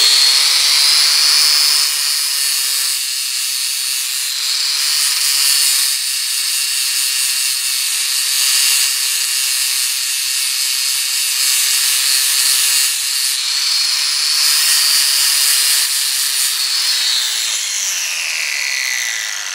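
A drill motor spinning a 40 grit flap wheel against a rusty vice grip, a steady high-pitched abrasive whir with slight pitch shifts, loud and continuous with no talking.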